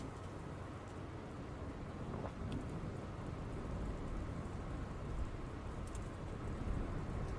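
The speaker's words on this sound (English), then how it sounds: "And it starts raining, so that is already going to slow us down." Steady rain pours in the video game Dustland Delivery, a dense, even hiss with a faint low rumble of thunder beneath it and no voices.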